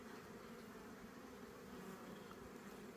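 A steady, dense buzz of many honeybees, continuous and quiet, with no voices over it.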